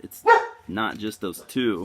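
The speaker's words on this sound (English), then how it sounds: "Sorry about the barking." A dog barks a sharp bark near the start, faintly audible while someone talks over it.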